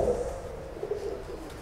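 A single pigeon gives a short, soft, throaty coo close by, fading into quiet.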